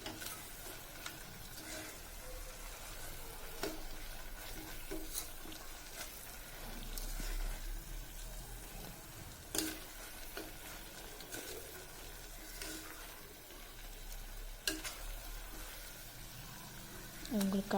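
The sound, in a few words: stirring tomato rice with butter, frying in pan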